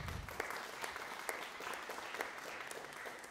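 A concert audience applauds steadily at a horn choir performance, a continuous wash of many hands clapping at a moderate distance, even in level and without talk.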